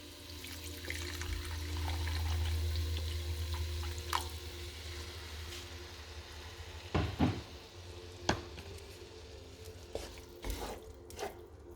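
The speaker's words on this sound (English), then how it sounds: "So I'm going to add a little water now." Water poured into a pan of tripe curry, a faint continuous wash with light bubbling and a few soft clinks of utensil against the pan.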